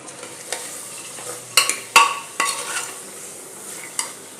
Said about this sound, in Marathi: आता हे भिजलेले छोले याच्यात घालून घेऊया. आणि व्यवस्थित परतून घेऊया.